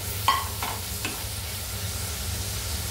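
Tomatoes go into onions frying in a pan for egg lababdar, with a couple of quick clatters from stirring at the start and then an even sizzling hiss.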